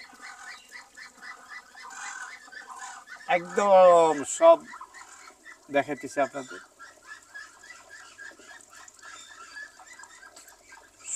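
Chinese ducks, almost three months old, quack loudly in a couple of noisy bursts at a duck farm, with softer calls scattered in between while someone talks over them.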